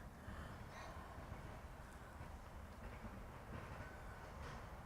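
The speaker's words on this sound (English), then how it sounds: "But I can hear the tram going." A tram rumbles past at a distance by the lakeside at Western Springs, New Zealand, a low steady rolling clatter of wheels on rails that stays fairly faint throughout.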